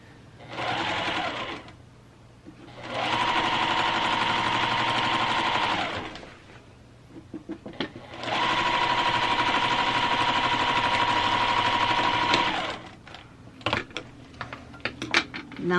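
A sewing machine stitches quilt sashing in two long steady runs of fast, even whirring, separated by a quiet pause with light clicks and handling noises.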